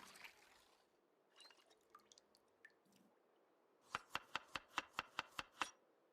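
Water pouring in Project Zomboid: a few faint, soft liquid ticks, then a rapid, even run of about nine crisp drip-like pulses close by, with no voice.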